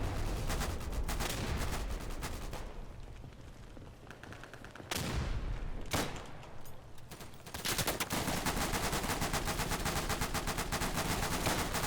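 Gunfire aimed at a building in the game Day of Infamy: sustained loud rifle and machine-gun shooting with overlapping rapid cracks, a brief lull mid-way, then dense firing resuming.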